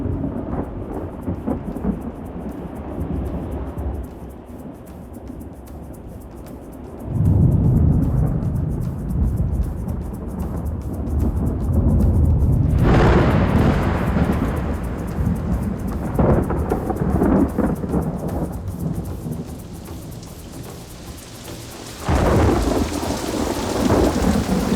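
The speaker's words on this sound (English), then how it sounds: "Thank you for the good rain." Heavy rain pours down steadily in a Cameroon village, with deep rolling thunder surging in several long swells over the constant downpour.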